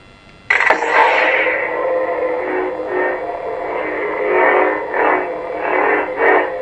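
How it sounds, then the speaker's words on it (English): An LGT Proffie Neopixel lightsaber snaps on with a sharp click, then settles into a loud, steady electric hum that wavers and swells as it moves. "you can actually hear the click in this when it ignites"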